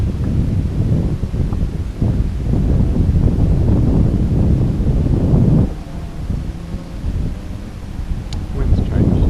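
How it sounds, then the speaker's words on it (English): Steady wind buffets the microphone on a lake during kayak fishing, a continuous low roar with gusty rises and a brief drop near the end, with no talking. "Wind's changed."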